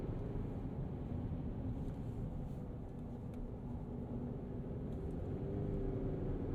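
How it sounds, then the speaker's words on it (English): A 2023 Chevy Colorado Trail Boss with a 4-cylinder engine and mud-terrain tires hums with a steady, low, diesel-like clatter heard from inside the cabin while driving, continuous and fairly quiet with no speech. "And so it has like this clatter almost like a diesel motor."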